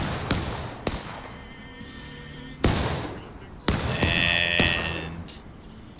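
Cannon shells explode in the Civil War game War of Rights, several sharp booming blasts spaced a second or two apart, each with a rumbling decay, some near and some farther off.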